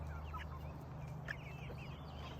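Turkeys and chickens calling together in a flock, with clucks and short gobbling calls scattered over a steady low hum, moderately close and without speech.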